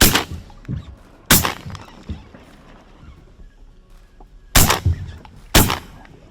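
Shotgun blasts during a waterfowl hunt in Maryland, two pairs of loud, close reports separated by a few seconds of quiet outdoor background with faint knocks.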